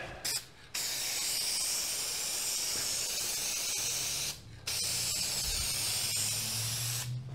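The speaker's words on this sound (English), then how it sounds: "I'll go to the other side and spray it." Long bursts of aerosol spray hiss during convertible top replacement on a 1987 VW MK1 Cabriolet, close and steady, broken by two short pauses, with a faint low rumble in the background.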